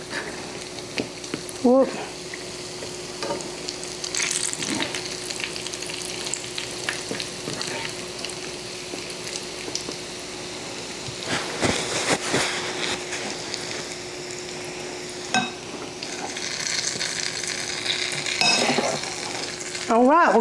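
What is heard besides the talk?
fried apple pies frying and being flipped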